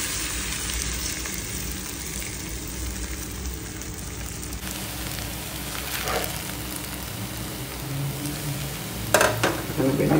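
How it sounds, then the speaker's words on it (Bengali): Okra frying in hot mustard oil in a heated wok, a loud continuous sizzle with occasional stirring clatter near the end. "এখানে সরিষার তেল দিয়ে দিলাম, কড়াইটা গরম হয়ে গেছে, তেলটা দিয়ে দিলাম"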